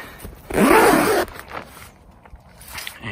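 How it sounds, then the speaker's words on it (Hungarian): A Solognac hunting blind tent door is zipped in one loud, quick pull lasting under a second, followed by quieter fabric rustling. "ezt a földig le lehet cipzározni"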